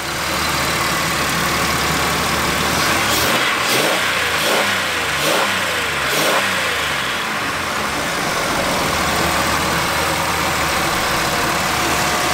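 A Buick Rendezvous CXL engine runs close by, idling steadily, then revving up in several quick bursts midway before settling back to an even idle.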